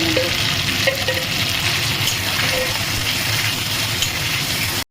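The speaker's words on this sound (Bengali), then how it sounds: "মশলাটা ভালো করে কষানো হয়ে গেছে এবারে আমি এটা ঢেলে দিচ্ছি" Steady, dense sizzling of chickpeas frying in spice masala in a pan throughout, with faint stirring noises and a brief tonal blip or two beneath.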